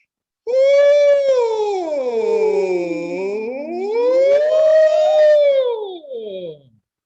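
A human voice imitates a police siren passing by, one long sustained wail sliding down, up and down again in pitch, loud and close before fading out at the end.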